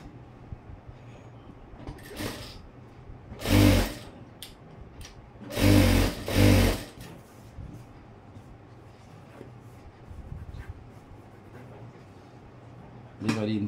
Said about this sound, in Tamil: இப்போ இது கீழே மட்டும் பெரிய தையல் வச்சு ஒரு தையல் போட்டுக்கிறேன்.